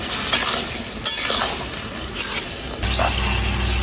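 Pork with potatoes and chui stalks stir-fried in a pan for a Bengali dish, giving a steady close sizzle with repeated scraping stirs of the spatula; the frying hiss grows louder and denser near the end.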